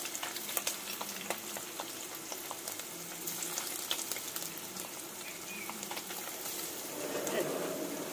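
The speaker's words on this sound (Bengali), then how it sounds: "পনিরটাকেও বেশ সুন্দরভাবে উল্টে পাল্টে একটু করে ভেজে নিই।" Paneer sizzles in shallow oil in a pan, a steady close frying crackle with occasional stirring taps, no voices.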